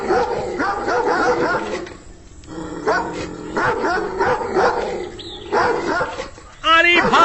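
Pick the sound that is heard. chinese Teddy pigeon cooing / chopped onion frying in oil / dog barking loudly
dog barking loudly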